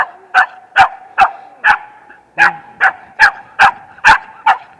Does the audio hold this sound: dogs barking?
yes